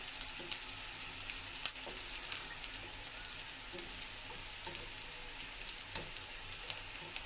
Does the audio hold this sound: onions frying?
yes